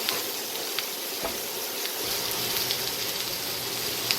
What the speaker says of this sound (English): I'm going to let that cook or sear on each side